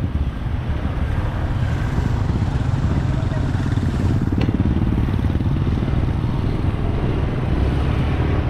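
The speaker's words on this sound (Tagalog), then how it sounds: "Eh, kasi motor lang naman yan, oh." A motorcycle rides along a road in Norzagaray, Bulacan, its steady engine drone close and continuous, with wind buffeting throughout.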